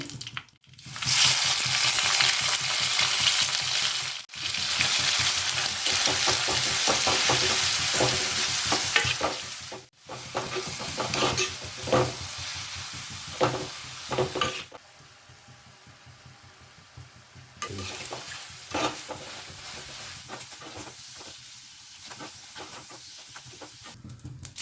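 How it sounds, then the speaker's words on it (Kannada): Loud, continuous sizzling of blue mussels frying in ghee, with scraping stirring sounds throughout; the sizzle briefly dips twice and then settles quieter. "ಇದನ್ನು ನಾನು ಗೀಯಲ್ಲಿ ಫ್ರೈ ಮಾಡ್ತೇನೆ"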